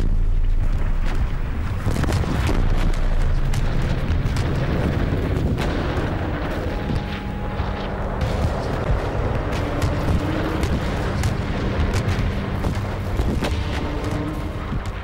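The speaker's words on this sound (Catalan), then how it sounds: "El sergent Towney contemplava la traca final del bombardeig de les línies alemanyes" First World War artillery bombarding German lines at the Battle of the Somme, a continuous rumbling barrage of booms and deep thuds rolling without pause, loud and dense, with sharper distant blasts punctuating the roar.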